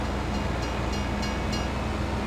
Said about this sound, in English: Train was long gone.